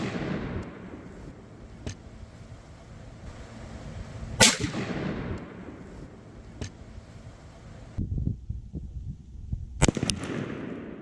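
Rifle shots from 5.56 55-grain rounds fired at concrete blocks outdoors: a few sharp, isolated cracks spaced several seconds apart over quiet background noise, moderately loud with short decays.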